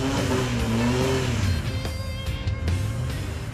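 A Toyota Bundera 86 competition four-wheel-drive car revs its engine at a 4WD show in Sydney, the engine rising and falling loudly and close in repeated throttle blips.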